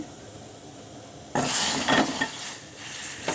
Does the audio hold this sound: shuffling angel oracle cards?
no